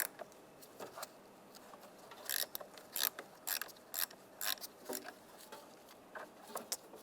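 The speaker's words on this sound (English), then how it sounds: "Using a 10mm socket or wrench, we want to loosen up this nut." A ratcheting 10mm socket wrench loosens the nut on the negative battery terminal of a 1995-2005 Volkswagen Jetta, giving bursts of quick, crisp metallic clicks in short repeated strokes, close up, with no talk.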